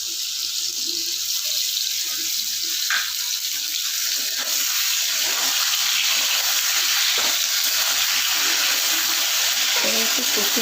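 A paste of green chili, ginger and cumin frying in a pan for a fish curry, a loud, continuous hissing sizzle that stays steady throughout, with faint stirring knocks scattered underneath and no talking.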